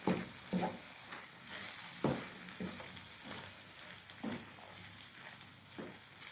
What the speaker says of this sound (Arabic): كنخلطوا هادشي مزيان حتى كينشف